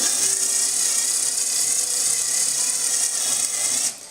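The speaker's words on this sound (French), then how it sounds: "je vais fixer directement la vis dans le mur, sans trop forcer" A screw is driven into a wall to mount an aged-copper towel rail, giving a steady, close, high-pitched whirring drone that holds for about four seconds and then stops abruptly.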